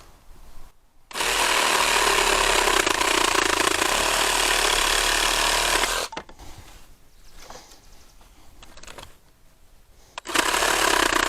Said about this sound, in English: I just pulled out the Sawzall